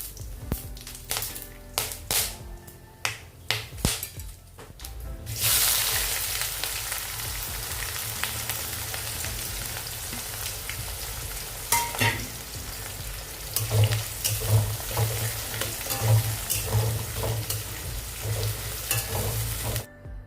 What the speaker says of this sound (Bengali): আর এই তো তেলের মধ্যে যা যা গোটা গরম মশলা দিতে হয় সব কিছুই দিলাম